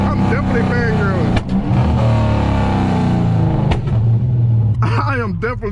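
A modified Dodge Scat Pack SRT with full bolt-ons roars as it accelerates hard, the engine note climbing through rising revs with shift breaks, loud and close under a talking voice.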